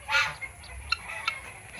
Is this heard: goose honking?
yes